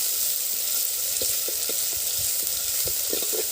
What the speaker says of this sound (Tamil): இதுலையே நல்லா வெங்காயத்தை நல்லா வதக்கிட்டு